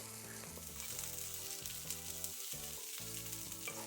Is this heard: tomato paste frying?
yes